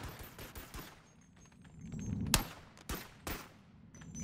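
Explosive bullets fired in the virtual reality game Boneworks during a soccer minigame: a quick burst of shots, then a heavier blast followed by a few separate sharp reports, close and loud.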